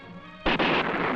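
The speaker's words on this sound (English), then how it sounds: "sonic boom is truly the sound of security" A supersonic military aircraft passing overhead in 1959 produces a sonic boom: a sudden, loud double crack in quick succession, then a rumbling tail that fades slowly.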